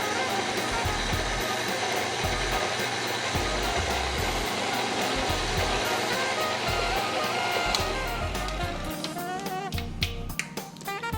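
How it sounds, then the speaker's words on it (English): KitchenAid stand mixer running steadily on low speed 2, blending pumpkin pie filling; a continuous loud motor whir with rhythmic low churning, growing choppier near the end. "I'm on speed 2 on the KitchenAid."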